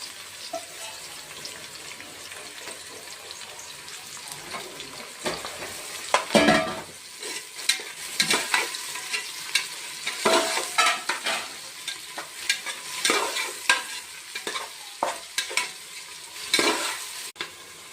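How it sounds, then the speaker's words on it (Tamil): Onions frying in hot oil in a cooker, with a steady sizzle and crackle broken by intermittent stirring scrapes and clatter. "வெங்காயம் போட்டு கொஞ்சம் நல்லா ஃப்ரை பண்ணி எடுத்துக்கலாம்"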